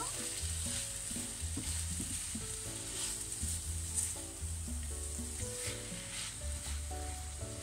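Steady sizzling and frying of an endive fricassée with onions and tomatoes in a pan as it is stirred, continuous close crackle with a faint hum underneath.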